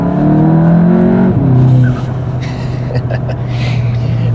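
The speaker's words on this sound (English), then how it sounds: "this car does also now have an MBRP catback exhaust and aftermarket blow-off valve, which you can hear even better now" A 2019 VW Jetta GLI with an MBRP catback exhaust, aftermarket blow-off valve and Unitronic tune revs up loudly with a rising engine note, then drops off with a shift and settles into a lower droning cruise.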